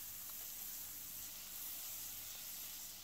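Butter melting in a hot pan just lifted off a gas flame for a creamy garlic mushroom sauce, giving a steady, even hiss and soft sizzle that holds unbroken, fairly quiet and close.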